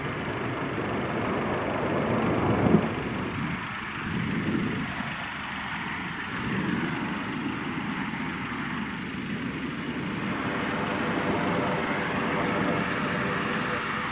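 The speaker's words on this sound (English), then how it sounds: "This plane raising dust behind it." An airplane kicks up dust as its engines roar at close range, a broad rumbling drone that swells and dips slightly over the span, with a brief louder thump early on.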